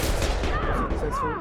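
Gunfire in the video game Mass Effect 2 on Insanity difficulty: a dense, rapid burst of shots fills the clip, with pitched whooshing weapon or effect tones rising above the continuous fire.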